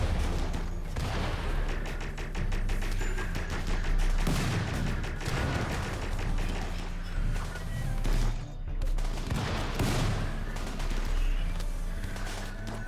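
Gunfire in the colony-sim game Rimworld Odyssey: sustained bursts of rapid shots and booming impacts layered over a droning game music bed, dense and continuous, with no talking.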